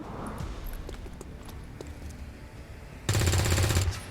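A soldier's gunfire burst in XCOM 2, a loud rapid volley erupting abruptly near the end after quiet ambient game sounds, with dense repeated cracks lasting under a second.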